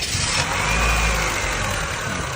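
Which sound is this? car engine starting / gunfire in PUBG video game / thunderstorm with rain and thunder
car engine starting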